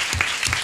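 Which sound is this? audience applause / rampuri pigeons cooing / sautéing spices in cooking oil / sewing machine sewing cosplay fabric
audience applause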